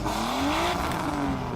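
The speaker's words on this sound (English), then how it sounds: "And of course, there's the exhaust." A race car's exhaust roars in Need for Speed The Run, the engine note climbing and then easing off in a continuous, loud drone with no voices over it.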